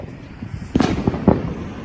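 Fireworks going off at a house on the 4th of July, two loud close bangs with a smaller pop between them over a rumbling background.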